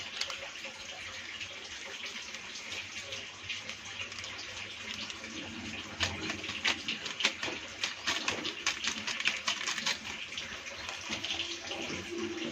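Pot of dal (lentils) bubbling at a steady boil, a continuous watery churn with soft gurgles and pops that grow a little busier partway through, heard alone at close range.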